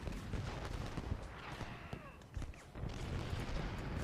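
Musket volleys and cannon fire in Ultimate General: Gettysburg, a sustained battle din of crackling shots and booms, with a brief lull midway before the firing swells again.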